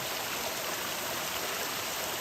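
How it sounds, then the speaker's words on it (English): Runoff water after overnight rain streams down a steep hiking trail on the Appalachian Trail, a steady close rushing and trickling wash with no voices. "And there's water running everywhere down the trail."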